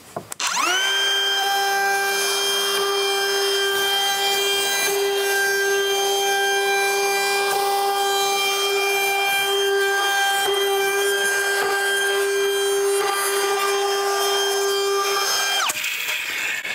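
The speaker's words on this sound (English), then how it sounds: "Remember, when you're using a router, you want to go clockwise" A router cuts a 1/4 inch round-over on the corners of a wooden rocking chair, giving a loud, steady, high-pitched whine. It runs close and continuous for about fifteen seconds before spinning down.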